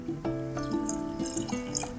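Water trickles and drips into a pan of honey while simple honey syrup is made, a soft, close pouring sound with small splashes for about two seconds and no talking.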